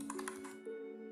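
Code being typed on a computer keyboard, a quick run of close, crisp key clicks slowing into a few lighter taps, with a steady electrical hum underneath.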